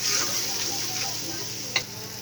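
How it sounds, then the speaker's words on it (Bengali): Turmeric and chilli powder spice mix frying in a pan for kacchi, a soft, steady sizzle with faint stirring and one brief scrape near the end. "এবার আমি সুন্দরভাবে মশলাটাকে একটু কষিয়ে নেব"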